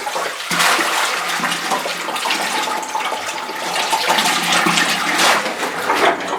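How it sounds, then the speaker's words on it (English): Water sloshing and gushing steadily as a 5-gallon bucket is submerged in a sump pit to draw water, loud and close with continuous splashing throughout. "Take and submerge yourself a 5-gallon bucket."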